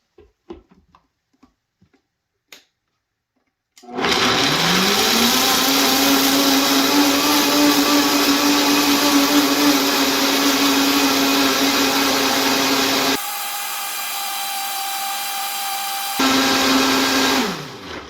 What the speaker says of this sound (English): So we're going to blend this up.